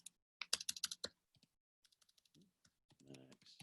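A computer keyboard is typed on while entering a formula into an Excel spreadsheet, with a quick burst of clicky keystrokes followed by sparser scattered taps and a few brief murmured sounds in between.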